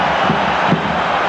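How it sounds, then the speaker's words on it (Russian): Football fans roar and shout together in a stadium during a match between Barcelona and Bayern Munich, a loud, dense crowd din sustained throughout with a couple of swelling surges. "Кричат все болельщики."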